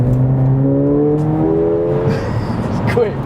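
Mercedes A45 AMG engine pulling hard to overtake a lorry, its note climbing steadily and loudly up close, with road roar underneath.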